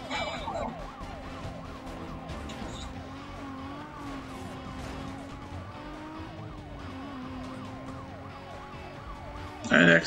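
Police sirens wailing in the racing video game Need for Speed Most Wanted, a continuous warbling siren over engine drone during a chase, ending in a loud burst near the end.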